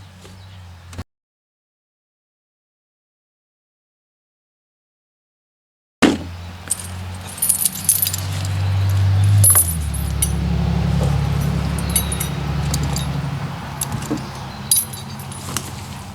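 A metal chain rattling and clinking as it is handled near a small Ford 2N tractor, close and jangly with scattered sharp links knocking over a low engine hum, after a brief silent gap.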